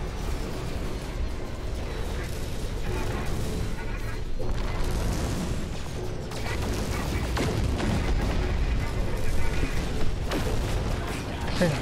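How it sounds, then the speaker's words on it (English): Starship weapons fire in No Man's Sky near a freighter in space combat, sounding as a continuous barrage of booming, rumbling blasts with a dense, noisy roar throughout. "now we can shoot"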